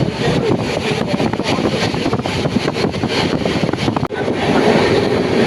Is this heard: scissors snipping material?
no